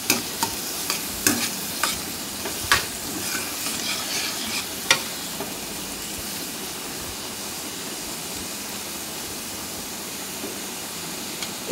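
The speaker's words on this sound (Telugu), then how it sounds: "చూస్తున్నారు కదా, చక్కగా ఈ విధంగా ఫ్రై అవుతుంది కదండి" Egg bhurji ingredients deep-frying in oil in a pan, a steady loud sizzle with a few sharp pops and stirring clicks early on, close by and without talk.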